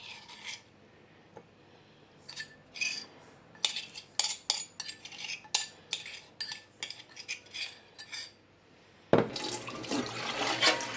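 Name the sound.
washing soaked curry leaves in cold water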